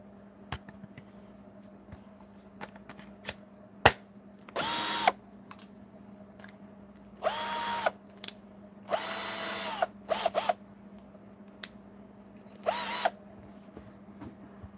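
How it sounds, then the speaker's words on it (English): A power drill bores out the tail bar of a lock from the back with a 6.5 mm bit, firing in several separate close, loud bursts of a second or so each, with short ratcheting clicks between them. "Drill the tail bar from the back, probably around 7 mil."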